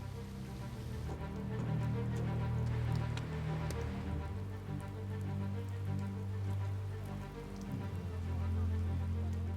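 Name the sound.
rain falling on construction site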